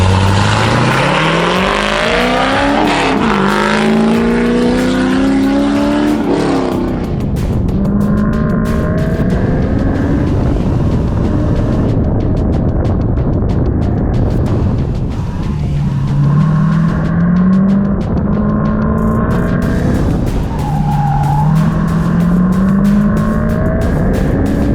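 Ford Mustang with about 200,000 miles racing hard around an autocross course, engine revving up and down through the gears with repeated climbing pitch sweeps, loud and close throughout with no talking.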